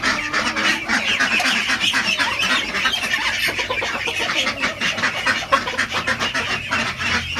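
A flock of domestic ducks quacks loudly and continuously at close range, overlapping calls forming a busy chatter with no voices.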